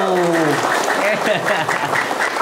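Applause from an audience at a pantun exchange event at SMK Negeri 2 Kayuagung, heard as a dense, lively clatter of clapping across the whole stretch, with voices calling out over it at the start.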